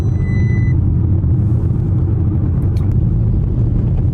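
A straight-piped 800 hp Audi RS7 drives along with a steady, loud, deep exhaust rumble that holds constant throughout, heard from close by with no pauses.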